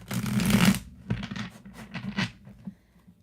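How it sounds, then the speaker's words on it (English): Tarot cards shuffled by hand at close range, a dense riffling burst at first, then several shorter papery rustles and slides tapering off, with no talking. "Let's get one more shuffle in for Cancer."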